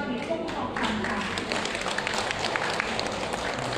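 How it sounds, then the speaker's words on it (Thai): Guests applaud during a Thai wedding betrothal ceremony, a continuous patter of clapping under an amplified voice speaking over it. "ขอเสียงปรบมือดังๆให้กำลังใจคุณพ่อ"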